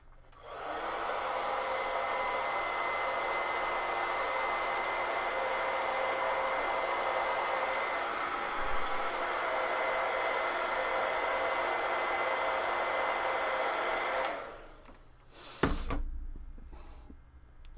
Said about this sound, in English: hit it with a hairdryer again so that it's nice and dry